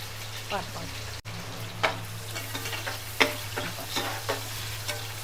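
Onions sizzle and fry in a pan for vegetable biryani, with a spoon stirring and scraping in irregular bursts over the steady hiss.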